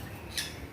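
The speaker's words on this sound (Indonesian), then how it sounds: "Ini suaranya berisik ini. Cerewet ini, burung kecil itu loh." Small birds squawk noisily at a park bird exhibit in East Java, a brief sharp call standing out over a steady bed of background noise.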